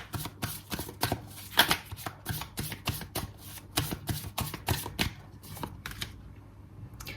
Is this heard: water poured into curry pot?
no